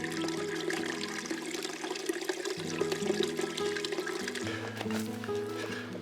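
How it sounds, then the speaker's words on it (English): Waterfall in the Arizona desert along the Arizona Trail makes a constant rushing, splashing wash of water, heard from a short distance with low droning tones mixed underneath. "There is a waterfall right there in the desert."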